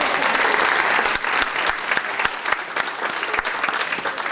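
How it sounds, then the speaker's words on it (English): Crowd at a high school hall of fame induction ceremony breaks into loud, sustained applause, with many hands clapping densely and a few sharper individual claps standing out against the wash. "Give yourselves a big round of applause."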